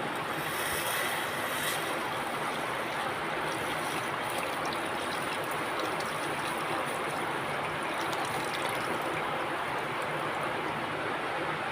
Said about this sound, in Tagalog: Saka na po natin lagyan ng tubig.